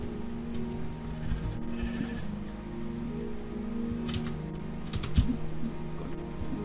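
Sheep in Minecraft bleat a few times, short and moderately faint, under a steady clatter of computer keyboard typing and clicks.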